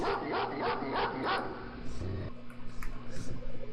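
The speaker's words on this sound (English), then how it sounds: "Dog in there." Several sharp dog barks in the first-person shooter Quake ring out in a quick burst over the game's droning ambient hum, then give way to scattered game sounds and footsteps.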